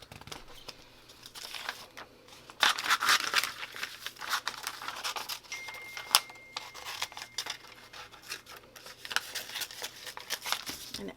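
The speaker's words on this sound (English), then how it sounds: "And then cut it out with your scissors." Scissors cut out paper for a leaf collage, with close snips mixed with crinkling and rustling of the sheet, coming in irregular bursts.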